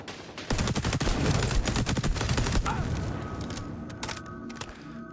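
Dense automatic gunfire in the XDefiant shooter game, rapid cracking bursts over a rumbling low end, fading into sparser shots and a lingering hum toward the end.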